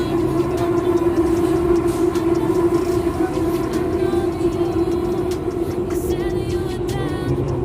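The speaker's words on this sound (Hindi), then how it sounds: "मेट्रो खुल चुकी है, यहाँ से अभी निकल रहे हैं।" A steady rumbling hum of a Delhi Metro train departing and moving, with a constant tonal whine and rattling, heard from inside the carriage.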